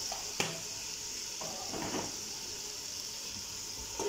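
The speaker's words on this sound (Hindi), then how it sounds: "इसमें चिकन जो है ना हल्का हल्का फ्राई होना शुरू हो गया हुआ है" Chicken frying in a karahi, a steady sizzling hiss broken by a few scraping stirs and clanks of a utensil against the pan, close and moderately loud.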